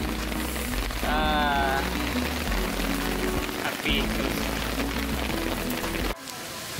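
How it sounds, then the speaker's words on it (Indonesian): Heavy rain pours on Mount Tandikek during a storm, a dense steady hiss filling the whole clip, with people talking over it and a brief whistling tone early on. "Hujan sangat deras"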